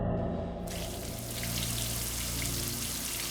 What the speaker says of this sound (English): I took a cold shower,